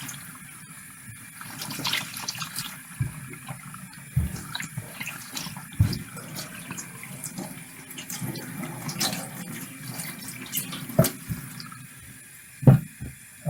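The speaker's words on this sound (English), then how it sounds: "I'm just going to rinse out the chemicals" A cyanotype print rinsed in a tray of water to wash out the chemicals makes continuous sloshing and trickling, with occasional louder splashes and knocks, close by and with no speech.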